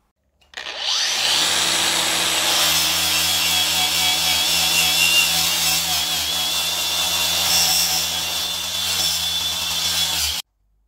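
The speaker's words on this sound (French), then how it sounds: "J'ai utilisé un disque à lamelles avec un gros grain" A coarse-grit flap disc on an angle grinder works a fillet weld on a stainless steel piece, a loud, continuous, abrasive whine that starts abruptly, holds steady for about ten seconds and cuts off sharply.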